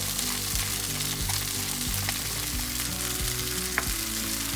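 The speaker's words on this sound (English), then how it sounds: "Just give them a nice gentle stir." Prawns with tomatoes, green beans and chili sizzle softly in a pan under a gentle stir, a continuous moderate frying hiss with low rhythmic scrapes and one small clink near the end, no speech.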